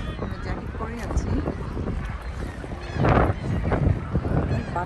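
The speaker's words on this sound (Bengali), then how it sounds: "অনেক জোরে জোরে বাতাস শব্দ হচ্ছে" Strong wind gusting at a cold, crowded beach, buffeting the microphone with broad rumbling noise that swells loudest midway, while people talk and call out nearby.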